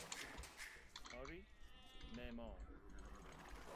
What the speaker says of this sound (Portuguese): Matei a ovelha do cara ainda.